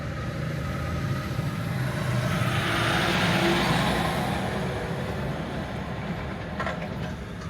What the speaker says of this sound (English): Big trucks come to downtown St. Cloud.